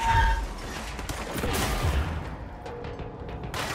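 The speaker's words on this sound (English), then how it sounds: "Did I throw a grenade at him?" Video game explosions and gunfire at Black Rock Quarry, a thrown grenade going off amid dense, loud, rumbling blasts and crackling shots that keep going steadily, with no talk.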